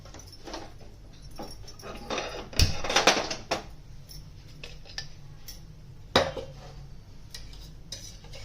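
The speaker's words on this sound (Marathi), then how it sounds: "गॅसवरती ना तडका पॅन ठेवलाय" A metal tadka pan is set down on a gas stove with a few clattering knocks and scrapes of cookware, one louder clank midway and another later, over a quiet background hiss; no talking.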